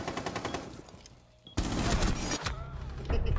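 Automatic weapon fire in Rainbow Six Siege: a rattling burst, a brief lull, then a sudden heavier, louder volley of shots continuing to the end.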